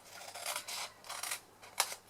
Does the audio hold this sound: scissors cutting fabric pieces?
yes